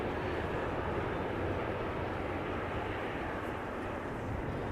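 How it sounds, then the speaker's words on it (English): A KLM Boeing 777-300ER lands at Amsterdam Schiphol, a loud, even broadband roar that holds steady from start to finish. "Gently touching down there, beautiful. KLM flight 744, 777-300 ER."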